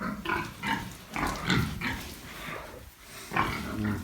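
Piglets on a pig farm squeal and grunt loudly in repeated bursts beside the sow after castration, a continuous noisy chorus with brief pauses and no speech.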